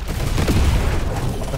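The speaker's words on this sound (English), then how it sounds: "Let's explode these." Explosions in the video game Deep Rock Galactic Survivor, a dense, continuous barrage of booms and gunfire-like blasts layered together for a short burst, loud and close with no pauses.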